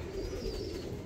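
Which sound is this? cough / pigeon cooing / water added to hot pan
pigeon cooing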